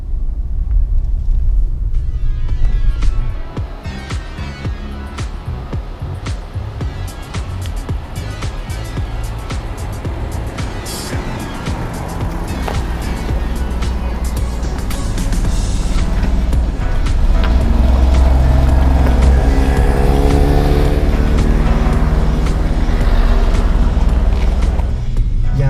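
Alfa Romeo Giulia Quadrifoglio (QV), 510 hp, driving: a steady, loud low engine rumble and road noise that swells stronger toward the end, with no talk over it.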